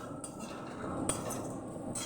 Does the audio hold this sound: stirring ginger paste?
yes